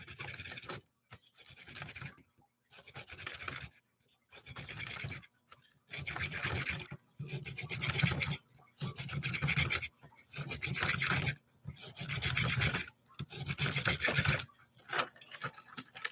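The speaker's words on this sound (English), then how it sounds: "Start chiseling." A small chisel scraping and chipping at a rock from a kids' crystal mining toy kit, heard as repeated rasping bursts of scratching with short pauses between strokes, close and steady with no talking.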